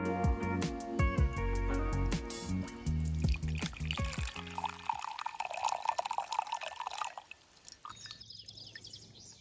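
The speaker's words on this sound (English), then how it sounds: "Now pour yourself a drink." A drink being poured: liquid trickles and drips into a glass over a bed of music, steady for several seconds and then trailing off into a few faint drips.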